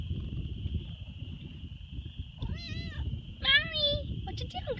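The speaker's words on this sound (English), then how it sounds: "You smart little kitty." A cat gives two close, clear meows, the second longer and rising, over a steady high whine and low background rumble, with a person speaking softly nearby.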